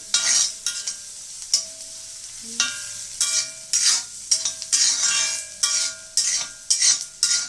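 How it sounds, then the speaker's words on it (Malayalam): Okra sautéing and being stirred in a pan, with a steady sizzle broken by repeated scraping strokes of a spoon against the pan, close and fairly loud, with no talking. "നല്ലപോലെ വഴണ്ടിട്ട് വെക്കണം."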